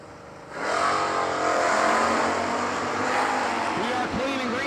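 Mopar drag race cars, including a 1978 Dodge Aspen, launching and racing at a New Year Nationals drag strip; a loud engine roar swells after a quiet start and holds steady, with an announcer's voice over it.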